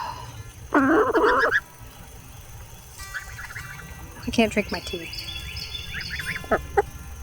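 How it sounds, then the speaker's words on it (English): A person speaks briefly, then chickens cluck and squawk in irregular bursts nearby, some calls overlapping. "Chickens."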